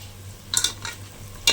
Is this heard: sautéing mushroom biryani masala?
yes